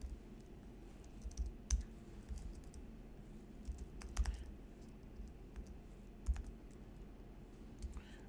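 Python code being typed on a computer keyboard, with soft irregular key clicks over a low steady hum, quiet and close, and no talk.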